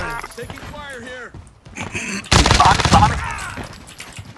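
Rapid gunfire in a first-person shooter game erupts loud and sustained in the second half, after a quieter stretch of game sounds, with a player talking over the action.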